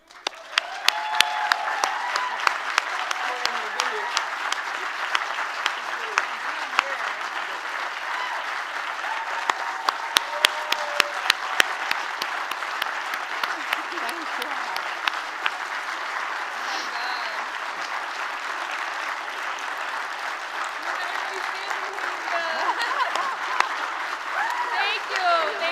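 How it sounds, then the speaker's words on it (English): Sustained applause from the audience at a 2022 Children's Aid benefit event, dense steady clapping with scattered louder claps that runs unbroken for about 26 seconds and swells slightly near the end. "one last round of applause"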